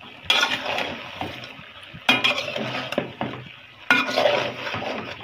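Curry for kacchi being stir-fried in a pan, with three bursts of scraping, clattering stirring and sizzle close by, each fading before the next, with no voices.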